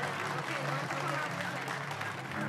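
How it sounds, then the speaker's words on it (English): Audience applause at a children's pageant, a steady wash of clapping under a person speaking over it. "Let's give them a nice round of applause one more time."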